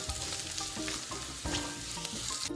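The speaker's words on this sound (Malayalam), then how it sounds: "ഇഞ്ചിയും പച്ചമുളകൊക്കെ ഒന്ന് മൂത്ത് വന്നു തുടങ്ങിയിട്ടുണ്ട്" Ginger and green chillies frying in hot oil for Kerala inji curry, a close, continuous crackling sizzle with bursts of spatter and a few stirring scrapes, no voices.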